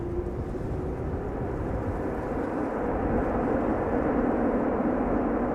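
Airliner landing at Amsterdam Schiphol with thrust reversers applied, a loud, steady low roar that swells slightly toward the end, heard from a distance with no talk.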